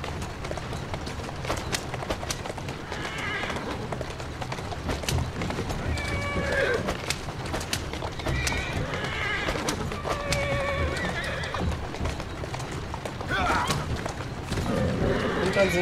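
A horse in Assassin's Creed Syndicate, ridden along a city street, whinnies several times over a steady clatter of galloping hooves, with someone talking throughout.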